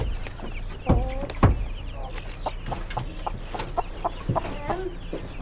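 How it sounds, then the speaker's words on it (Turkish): Lohmann hens cluck close by in a poultry pen, with sharp, irregular calls and softer clucks scattered over a constant low farmyard background. "Lohma tavuklarımız"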